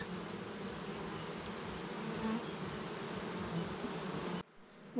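A dense, continuous buzz of honey bees fills a hive, loud and close, holding steady before cutting off abruptly near the end.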